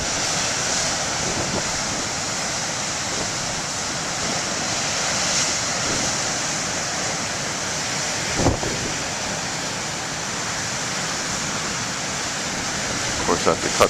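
Ocean waves break steadily at the BTL main lighthouse beach, a continuous wide roar of surf with one sharper crash, and wind noise is present.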